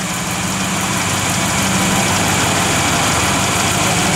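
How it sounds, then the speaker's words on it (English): A 1956 Chevrolet Bel Air idles steadily up close, an even, constant rumble with no revving or talk. "Just great running car, man."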